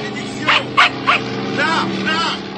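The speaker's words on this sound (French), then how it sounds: "Le chien!" Dog barks three times in a cartoon adventure set at a desert camp, sharp yaps spaced about a beat apart over a steady background drone and music.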